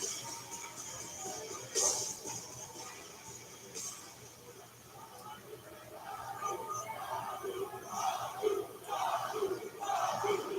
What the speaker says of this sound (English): Crowd strongly behind Jacob Fatu.